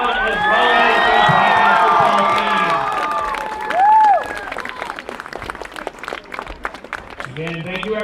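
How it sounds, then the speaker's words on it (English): Crowd applause for the seniors at a high school varsity football game between Croton-Harmon and Rye Neck, loud clapping mixed with cheers and shouts that fades into scattered claps, with voices in the crowd. "One more big round of applause for all of the seniors for the cheer squad as well as"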